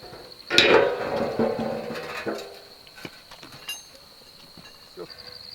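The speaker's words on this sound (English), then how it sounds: "I'm going to have to use my lump hammer and try and straighten those out a little bit" A lump hammer strikes twisted bolts on a shed cabin build, giving a few sharp metallic knocks, loudest near the start, then scattered lighter taps with a faint ringing tone behind.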